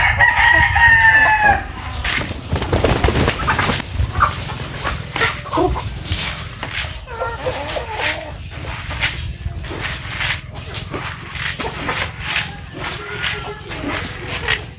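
Chickens clucking close by while a rooster crows, with other birds calling and a person speaking over the farmyard noise.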